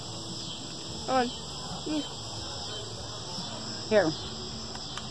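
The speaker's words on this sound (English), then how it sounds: "That's the crickets." Crickets chirring outdoors during a solar eclipse, a steady high-pitched drone running throughout while people briefly talk over it now and then.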